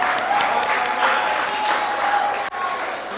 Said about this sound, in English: Round of applause for the kids.